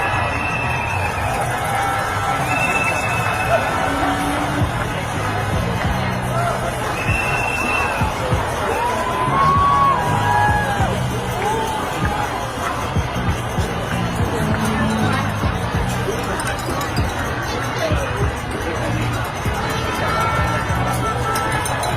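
A large outdoor crowd at the No Kings parade in Whittier, a steady murmur of many voices with scattered shouts and whistles and occasional cheers, all blended into a continuous hubbub.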